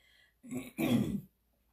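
A single throaty clearing, two quick rough bursts close to the mic, then quiet.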